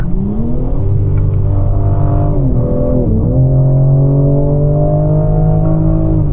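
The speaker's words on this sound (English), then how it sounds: "This downshift," A BMW M4 Competition engine blips sharply on a paddle-shift downshift on a snowy mountain pass road, the loud note sweeping up and down before settling into a steady, strong drone.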